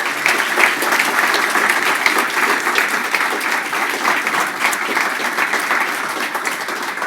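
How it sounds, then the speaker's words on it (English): Sustained, dense applause from a large audience at an annual forum session on provincial resilience, loud and even throughout with no pause or talk over it. "So let's give him a round of applause again"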